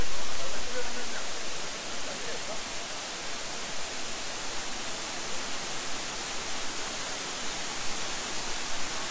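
A waterfall at Marachuv reached over slippery rocks, heard as a steady, loud broadband roar of rushing water that fills the whole clip, slightly louder at the start.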